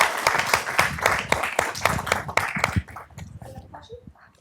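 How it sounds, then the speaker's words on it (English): An audience at an institute talk applauds a speaker, with close, distinct claps that thin out and fade into quiet, followed by faint voices at the end. "So let's give her a round of applause,"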